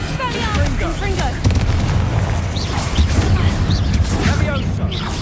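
A Confringo spell blasts in Hogwarts Legacy, a dense rumbling explosion with bursts and crackles layered over busy game effects and talk, steady and loud throughout.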